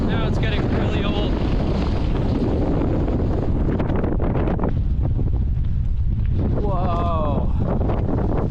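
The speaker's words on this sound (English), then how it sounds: "The wind was kind of cool to experience for a bit, but now it's getting really old." Strong Patagonian wind gusts roar across the microphone on a trail near icebergs and a glacier viewpoint, loud and continuous, with a voice talking briefly over the buffeting.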